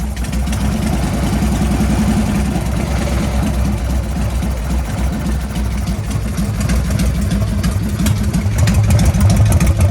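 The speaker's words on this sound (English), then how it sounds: "Got a nice low idle" Engine idling low and steady after an idle screw adjustment, a loud continuous rumble with a regular low throb that holds for ten seconds without talk.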